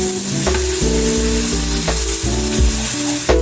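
Hot flour and semolina for halva sizzling loudly as water is poured in, a dense steady hiss with repeated scraping stirs over it and no talk.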